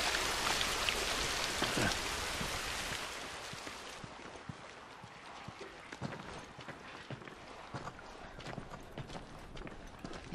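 Steady heavy rain hisses in The Last of Us, loud at first, then softening as if under shelter, while scattered footstep-like taps and light knocks continue over the quieter downpour.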